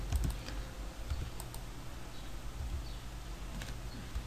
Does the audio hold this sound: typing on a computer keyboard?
yes